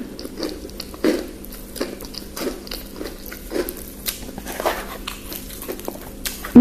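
Crunchy kerupuk crackers bitten and chewed along with ketoprak, a series of close, crisp bites and crackly chewing repeating steadily over several seconds, with no talk.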